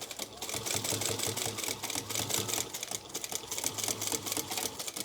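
A sewing machine stitches through many layers of fabric and tape while making a crossbody sling bag, a close rapid rhythmic clatter that strains slightly in short bursts, with no voices.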